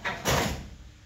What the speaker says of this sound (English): And it shuts the doors.